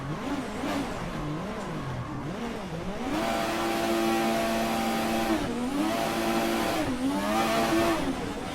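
Multi-million-dollar F1 race car engine revving hard while drifting on a track, a loud continuous high-pitched wail rising and falling with throttle, growing louder partway through with occasional tire squeal.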